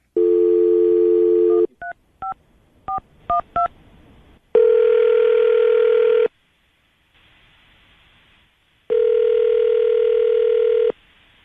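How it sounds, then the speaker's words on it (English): A telephone handset produces a steady dial tone, then a quick run of keypad beeps as a number is dialed, followed by long, repeated ringback tones separated by a quiet gap. "I'm going to dial the phone number right now"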